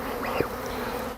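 Bees buzz steadily around an outdoor hive in hot summer weather, a dense insect drone with one bee passing close by briefly, continuous and moderately quiet.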